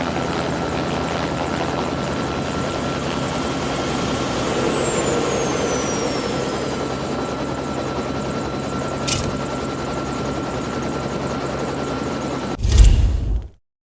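A helicopter in the hunting video game Cabela's Dangerous Hunts 2 hovers with a loud, steady rotor and turbine drone, a high whine gliding down in pitch, then a brief thump before it cuts off.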